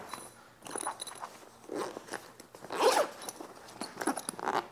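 A zipper on a baseball gear bag compartment is pulled in several short, close, scratchy strokes, separated by brief pauses and light rustling of the bag fabric.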